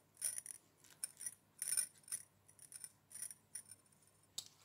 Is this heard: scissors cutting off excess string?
yes